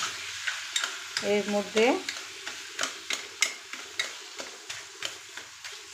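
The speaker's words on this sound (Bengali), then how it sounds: "মানে এটাকে একটু নেড়ে চেড়ে দিতে হবে" Food cooking on a stove is stirred with a steady series of scraping, knocking strokes against the pot, close and rhythmic, while someone briefly speaks over it.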